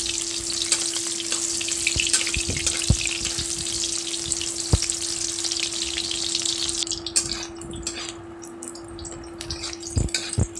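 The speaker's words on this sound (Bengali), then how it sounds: "এবার কাঁচকলাগুলো ভালোভাবে ভেজে নেব নেড়ে চেড়ে" Raw green banana pieces fry in hot oil and are stirred, a dense continuous sizzle with occasional spatula knocks over a steady background hum, with no one talking.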